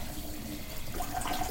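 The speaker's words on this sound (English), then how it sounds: "I'm going to just put boiling water in here" Boiling water poured into tea ingredients for a detox tea, a steady close splashing and trickling pour lasting a moment.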